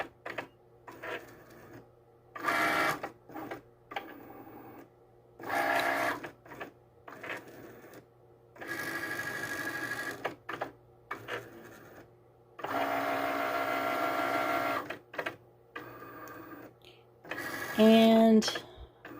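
A Cricut cutting machine reads registration marks and then cuts printable iron-on. It whirs and buzzes close by in several motor bursts of varying length, with short beeping tones near the end.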